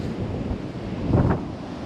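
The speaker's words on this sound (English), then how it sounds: "Then you got the ocean right there." Ocean waves washing in beside a rock pool, a broad steady roar of surf mixed with wind buffeting the microphone, swelling briefly midway.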